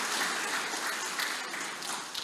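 A church congregation gathered for an Ascension Thursday service breaks into applause, a dense, steady wash of clapping from a crowd heard alone for a couple of seconds.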